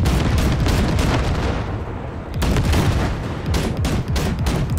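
Heavy weapons fire from a Basilisk tank in the video game Cyberpunk 2077, blasting wrecks: dense, loud bursts of gunfire and booming blasts, continuous for several seconds with brief pauses between volleys.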